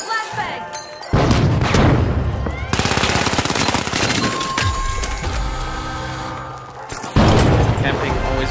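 A flashbang and gunfire sound in the first-person shooter game The Finals. Loud, close bursts of rapid automatic fire and booming blasts start abruptly, then a ringing tone follows and shooting resumes near the end.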